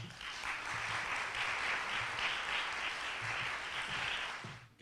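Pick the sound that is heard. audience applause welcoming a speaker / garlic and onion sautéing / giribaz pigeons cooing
audience applause welcoming a speaker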